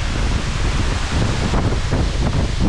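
Strong gusty wind at Larapinta Falls in Lamington National Park, a loud roaring rush buffeting the microphone with low rumbling gusts, continuous and close, with no voices.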